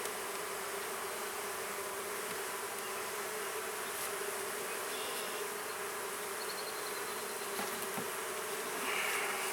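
Honey bees buzz during a hive inspection, a dense continuous swarm hum filling the air close by, steady and without talk.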